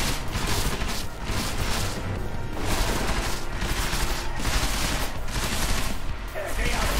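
Dense, continuous gunfire in Deus Ex Mankind Divided, a loud, unbroken wash of overlapping shots and blasts filling the whole stretch without a pause.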